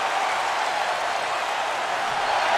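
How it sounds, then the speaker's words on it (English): A huge Royal Rumble wrestling arena crowd roars in a dense, loud and continuous wash of cheering, filling the space without pause. "The sound of this crowd is deafening, and he's asking for more."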